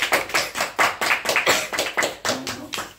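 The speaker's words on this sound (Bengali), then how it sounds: "জুড়ে হাততালি বাজাও কমসে কম।" Hands clapping in time at a surprise anniversary party for an aunt and uncle, about a dozen sharp, even claps close by, with a voice briefly audible under them.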